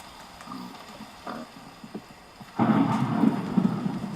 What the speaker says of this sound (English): now it's also thundering